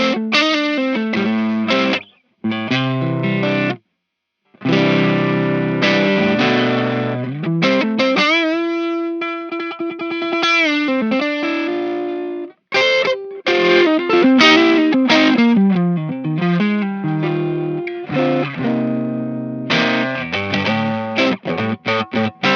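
Electric guitar played through a Two Notes Torpedo Captor X with its enhancer on: a loud, distorted, chorus-tinged riff of quick picked notes and sustained bends with short pauses, alone with no talking.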